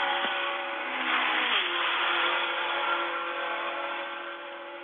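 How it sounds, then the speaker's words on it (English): Formula One cars rev during Monaco Grand Prix time trials near Casino Square in Monte-Carlo: a continuous high, buzzing engine whine that rises and falls, heard from a distance and sounding slightly muffled, with no talking. "we are in the time trials for the Formula One Grand Prix"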